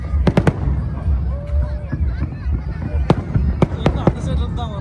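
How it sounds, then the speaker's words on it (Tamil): Firecrackers exploding during a fireworks show, sharp loud bangs coming in quick clusters and scattered single cracks, with people talking and shouting in between. "போடுறா வெடியா போடுறா"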